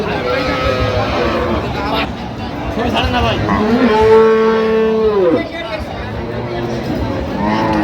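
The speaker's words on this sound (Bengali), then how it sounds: "গাভী বাছুর আমরা দেখছি" Cows and calves low at a crowded rural cattle market, with one strong, sustained moo standing out midway amid surrounding voices and crowd babble.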